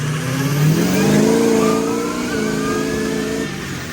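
A monster truck engine revs hard with the gas pedal floored, its pitch climbing and holding, close and loud with no talking.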